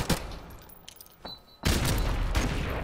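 Gunshots from a first-person shooter match, starting with a sharp crack near the start, a faint shot partway through, then a louder burst of sustained firing that runs to the end.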